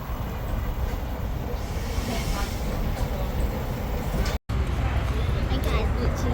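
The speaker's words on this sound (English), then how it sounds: "first time we're going on this train" A passenger train rolling along a rail line in New Zealand, heard from on board as a continuous rumbling drone with faint clattering, steady and fairly loud, with a brief dropout near the end.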